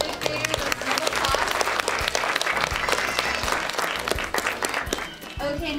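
Audience applause at an elementary school art show for the 4th and 5th grade art winners: dense, steady clapping from a crowd that runs the whole time, thinning briefly near the end before picking back up.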